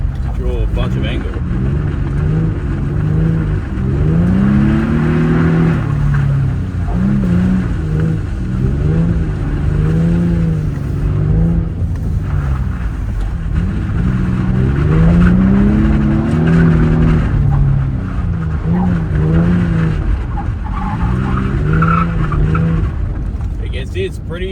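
A drift car from a modified kit revs and slides continuously, its motor pitch rising and falling in repeated swells with tire squeal mixed in, loud and close throughout.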